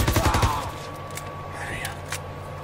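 A dense burst of close gunfire in Call of Duty: WWII at the start, then quieter battlefield noise with a few distant, isolated cracks.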